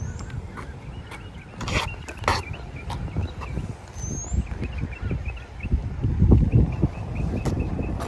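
Headwind on a golf course at Hiller Park buffets the microphone in rough gusts, with low rumbling surges and a few sharp knocks and clicks, strongest toward the end.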